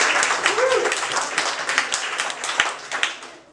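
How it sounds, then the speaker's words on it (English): A comedy club audience claps and applauds for a performer named Andrew, a dense patter of hands with cheers and voices mixed in, fading toward the end. "Another round of applause for Andrew."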